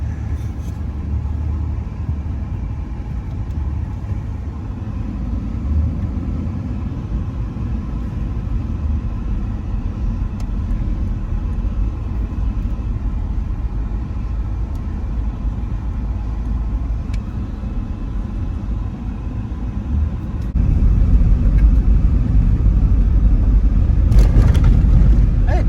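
A steady, loud roaring air conditioning blower in a 1984 Lincoln limousine fills the space like rushing air, with deep low rumble throughout, growing slightly louder near the end.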